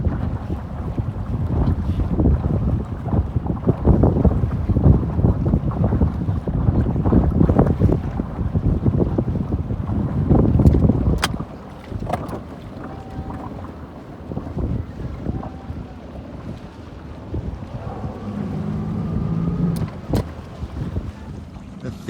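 Sabot sailing dinghy under way at a regatta, with loud gusting wind buffeting the microphone and water rushing past the hull, easing somewhat in the second half.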